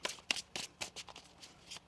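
A deck of tarot cards is shuffled by hand in a run of quick, soft riffling bursts about every quarter second, close and fairly quiet, with no talking.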